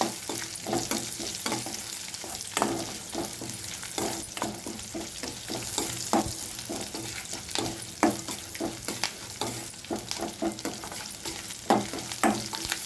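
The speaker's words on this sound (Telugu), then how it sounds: "కరివేపాకు వేసినప్పుడు జాగ్రత్త అండి, మీదే చిల్లి పడుతుంది ఆయిల్" Curry leaves sizzle and crackle in hot oil while a Telugu tomato-mint chutney tempering cooks, with steady frying hiss and sharp spattering pops throughout, close and fairly loud, no voices.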